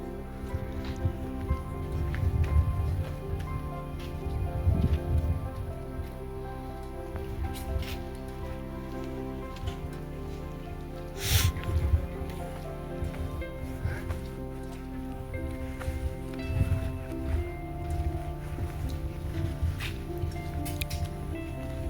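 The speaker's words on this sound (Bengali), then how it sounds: "হালকা হালকা বৃষ্টি পড়ছে, খুব সুন্দর লাগছে।" Light rain falling by Mukutmanipur Dam on the Kangsabati River, soft scattered patter and drips on surfaces over a faint steady background hum, with no voices.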